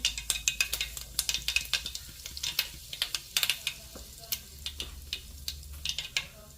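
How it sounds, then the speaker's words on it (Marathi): Cumin seeds and asafoetida crackling and sizzling in hot oil for a Maharashtrian val bean dish, with sharp close pops over a low steady hiss. "आता लगेचच आपण त्याच्यामध्ये हिंग टाकून घेऊया"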